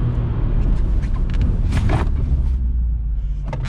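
Interior rumble of a car braking hard from 100 km/h during an emergency stop test of a Dacia Logan or Skoda Octavia, steady loud low road and tyre noise with brief hissing bursts.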